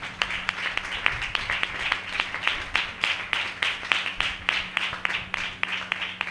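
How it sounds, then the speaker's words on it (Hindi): Congregation at a church service clapping loudly in a strong, steady unison rhythm, sharp regular beats repeating about three per second, with a low hum underneath and no talk. "हम जोरदार ताली से उनका स्वागत करें।"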